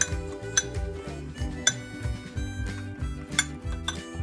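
A metal spoon clinks and scrapes against a bowl while milk is stirred into biscuit dough, rapid irregular taps close up, fairly quiet, no talking.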